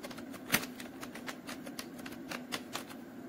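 Typing on a computer keyboard, a run of light clicky keystrokes at an uneven pace with one sharper tap near the start, close and fairly quiet.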